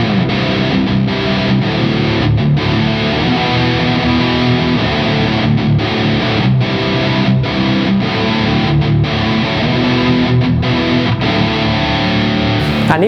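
Heavy distorted electric guitar chugs low power chords in drop C tuning in a continuous, loud rhythmic riff with brief choppy pauses.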